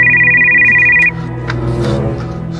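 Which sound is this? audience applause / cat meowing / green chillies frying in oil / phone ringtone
phone ringtone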